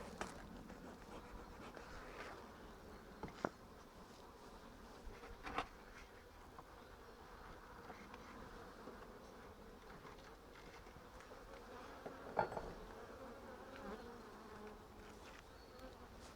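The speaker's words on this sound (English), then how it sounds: "So you can see there's a lot of bees in this box." Soft, continuous buzzing of many honeybees close by in a nucleus hive box, with occasional small knocks and scrapes as frames are handled.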